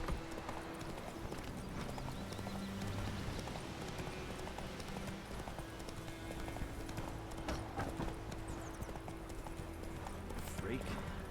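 A horse's hooves clip-clop at a steady galloping pace in The Witcher 3, with a brief whinny, and game ambience and voice-like sound running underneath for the whole stretch.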